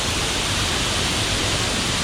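Hogs Falls waterfall pours against a rock face, a dense, steady roar of rushing water heard up close and loud with no break.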